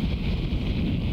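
A strong Cornish gale on the Merlin Golf Club course, heard as a heavy, continuous rumble of wind buffeting the microphone, loud and close.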